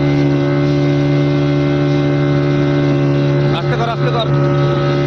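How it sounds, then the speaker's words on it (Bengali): A trawler's engine drones with a loud, steady tonal hum at the Digha sea estuary as the vessel sinks. People shout over the engine noise near the end. "দেখো ভাই ট্রলার ডুবছে"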